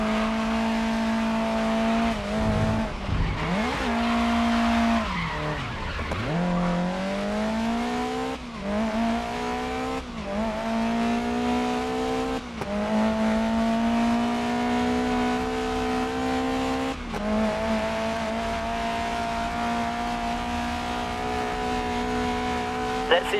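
Race car in Grid Legends sliding through corners under handbrake, engine revving steadily with pitch dips on gear shifts and braking, tires squealing through the slides, all loud and close.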